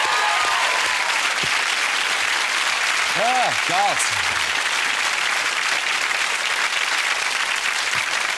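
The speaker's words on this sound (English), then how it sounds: "Give him a big cheer" Studio audience cheering and applauding on a TV chat show, a steady loud wash of clapping and crowd noise throughout, with a brief spoken exclamation partway through.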